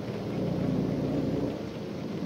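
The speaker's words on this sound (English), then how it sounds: "Can't see anything with this rain." Heavy rain and rolling thunder in American Truck Simulator, a dense low rumble under constant rain hiss around a Volvo VNL truck, loud and unbroken for the whole stretch, with no one talking.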